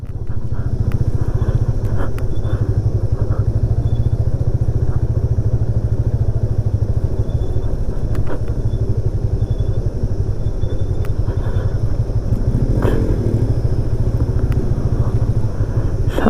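A Bajaj Pulsar motorcycle carrying two riders runs just ahead on a mountain ride road, its engine a steady, loud, throbbing drone that continues without a break, with occasional clatter and thumps.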